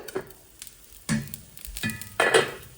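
Gundu dosa cooking in sesame oil in a covered pan, with soft sizzling and a few clattering knocks of the lid and utensil spaced out over a quiet background.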